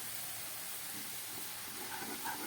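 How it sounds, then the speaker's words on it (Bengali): Cumin seeds sizzling in hot oil and butter, a steady broadband hiss that holds evenly throughout at low level, with no voices. "এবারে এই তেল আর বাটারের মধ্যে আমি দিয়ে দিচ্ছি একটু জিরে।"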